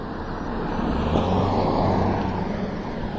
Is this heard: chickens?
no